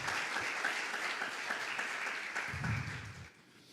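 A church congregation applauding Jesus during a sermon, a dense, steady round of clapping from many hands that fades out near the end.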